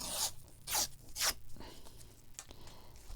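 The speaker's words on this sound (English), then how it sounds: "Okay, so I'm just going to tear." Paper being torn by hand at a craft table, several quick rasping rips close by and fairly quiet, with soft rustling between them and no talk.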